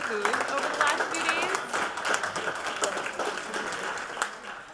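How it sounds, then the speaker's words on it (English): Conference audience applauding at a closing plenary session, a steady dense wash of clapping throughout, with voices mixed in. "Let's all give Rob Williams a round of applause"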